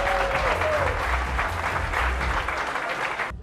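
A crowd applauding at a 2013 Muay Thai ring championship event in Armenia, steady and dense clapping throughout that cuts off sharply at the end.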